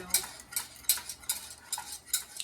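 A whisk beats cornstarch into a sauce in a pan, giving quick scraping strokes in a steady rhythm of about seven bursts, close and moderately loud with no talking.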